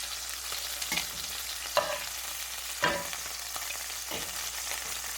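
Salisbury steak patties sizzling in a frying pan, a steady hiss of frying with a few sharper crackles and spits popping up over it, with no voices.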